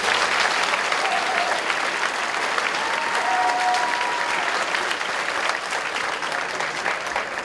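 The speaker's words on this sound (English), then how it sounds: "Can we give them a round of applause?" Sustained clapping from an audience at a senior ceremony, a dense, steady roar of hands filling the room, with a few faint voices beneath.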